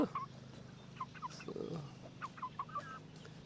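Red Ranger meat chickens cluck and murmur softly in a backyard flock, with scattered short calls over a low ambient hum.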